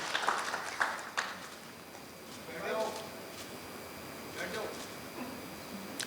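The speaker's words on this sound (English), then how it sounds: "let's once again applaud these dynamic women who are sharing the stage with our eminent dignitaries" Conference audience at a space congress inaugural session applauding, scattered claps and a broad hall wash that rises and fades in uneven waves, fairly distant, with some voices mixed in.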